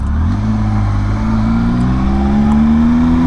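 A motorcycle roadster engine accelerates steadily, its loud rising drone climbing in pitch over a few seconds with no speech, close and continuous.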